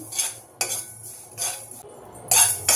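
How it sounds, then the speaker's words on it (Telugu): Sesame seeds being fried for bitter gourd pulusu are stirred in a pan in four quick bursts of close scraping and rattling, with short quiet gaps between them. "నువ్వులు కొంచెం ఫ్రై అయినాయండి, తీసేసుకుందాం"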